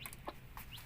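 A Rhode Island mother hen gives a few soft clucks among her chicks, with faint high peeps mixed in, quiet and brief.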